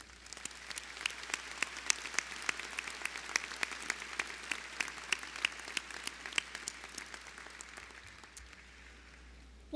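A large audience applauding at a Weber State University commencement ceremony, sustained crowd clapping with sharp individual claps standing out, tapering off near the end.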